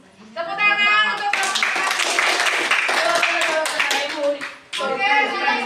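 A classroom of students clapping together after a group presentation, a loud burst of many hands that swells and runs for several seconds, with a voice speaking at the start and again at the end.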